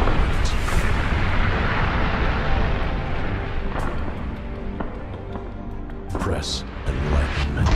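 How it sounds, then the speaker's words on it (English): Explosions in the video game Redeemer rumble as loud, dense, continuous booming with crackling bursts, a low roar filling the whole stretch. "As I'm walking away from the explosions, I can't help but wonder."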